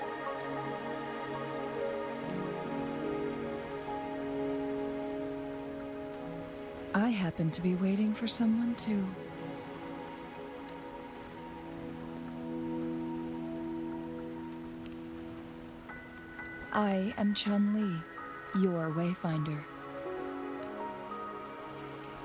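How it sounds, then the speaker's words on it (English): Steady rain falling in the Wuthering Waves video game, a continuous wash of patter on surfaces running under a calm conversation with music, with spoken lines rising over it twice. "Don't worry, the rain won't last much longer."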